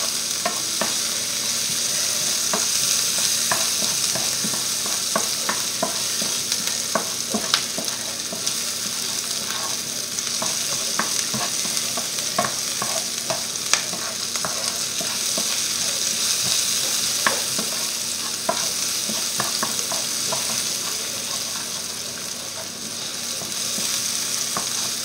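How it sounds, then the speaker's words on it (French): Onions sauté in a hot pan for a coconut curry chicken dish, a continuous loud sizzle broken by scraping clicks as a utensil stirs them. "On fait revenir nos oignons à peu près, allez, mais en fait il faut qu'ils deviennent translucides."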